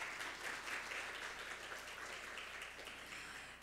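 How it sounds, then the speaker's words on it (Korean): An audience at an AI debate and paper competition award ceremony applauds a professor, a dense steady round of clapping that carries through the whole moment. "사영준 교수님께 다시 한번 박수 부탁드리겠습니다"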